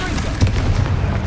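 Confringo fire-blast spell exploding in the Hogwarts Legacy video game: a loud, deep boom with a heavy low rumble that flares briefly, set against continuous battle noise and shouted spell voices.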